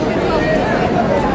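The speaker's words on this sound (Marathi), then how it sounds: "तुम्ही बघू शकता इथे खालच्या मजल्यावर किती गर्दी" A dense crowd murmurs and chatters at the Tuljapur temple fair, a steady indoor hubbub of many overlapping voices filling the space without any single voice standing out.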